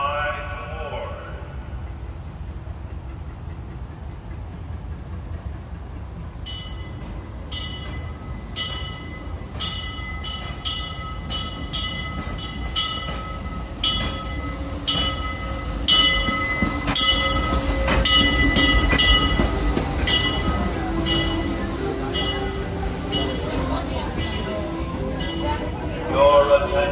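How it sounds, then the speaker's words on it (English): The Disneyland Railroad train, the Disneyland Limited, rolls into the station with a rumbling approach and a steadily clanging bell that grows louder. A public-address announcement plays over the train noise. "The Disneyland Limited, now arriving from a trip around Walt Disney's Magic Kingdom."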